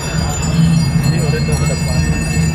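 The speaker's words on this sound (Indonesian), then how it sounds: "the life cycle procession today is accompanied by the Gong Suling Gamelan Ensemble" A Balinese Gong Suling gamelan ensemble plays during a life-cycle procession at an arts festival opening, a loud, steady, shimmering texture of bamboo flutes and gongs over a low drone.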